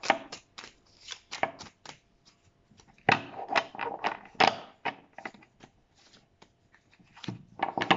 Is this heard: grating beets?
no